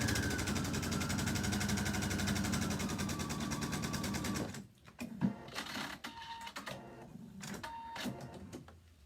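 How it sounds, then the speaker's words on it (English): A sewing machine stitches a quarter-inch seam on a piano keys quilt border with a rapid steady whir for about four and a half seconds, then stops, leaving a few clicks and handling sounds nearby. "You're just going to put right sides together and stitch."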